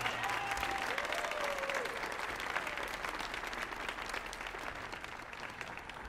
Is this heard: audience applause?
yes